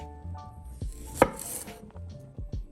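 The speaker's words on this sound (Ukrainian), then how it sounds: "Візьмемо редьку і наріжемо її такими" Knife slicing radish into thin slices on a board, a series of crisp separate chops with one sharper knock in the middle, close and fairly quiet with no talk.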